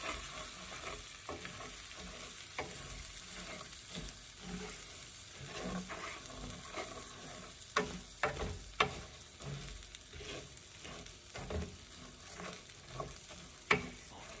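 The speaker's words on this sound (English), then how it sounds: "I'm going to toast this over a medium to medium-low heat" Rice toasts in a pan over medium to medium-low heat, a soft continuous sizzle broken by intermittent scraping and stirring clicks, some sharper taps near the end, with no talking.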